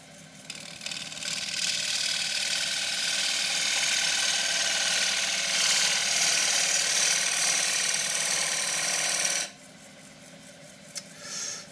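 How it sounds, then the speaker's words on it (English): Loquat wood bowl spinning on a lathe as a spindle gouge cuts, a steady rasping scrape over motor hum that runs loud for about nine seconds, then drops to quieter idling. "Coming in from the other side, I'm going to do that with the spindle gouge."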